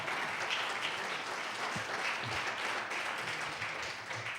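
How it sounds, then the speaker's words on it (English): Applause from visitors in the public gallery of a House of Assembly chamber during a debate, a dense, steady wash of many hands clapping that holds for several seconds at moderate volume, with no talk over it. "I would remind our visitors in the gallery that there is to be no applauding, please, during the debate."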